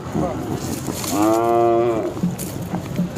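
A Khillar bull lets out a single drawn-out, droning moo amid a noisy outdoor crowd at a cattle market in Pandharpur, with murmuring voices before and after.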